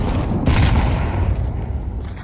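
Gunfire in a Counter-Strike 2 match at a PGL Major in Copenhagen, a loud, dense rattle of shots over a booming game mix lasting about two seconds.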